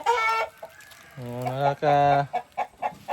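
Hens and a rooster cluck and call loudly and close by in a henhouse with many eggs, harmonic squawks and short clucks coming in bursts over about three seconds.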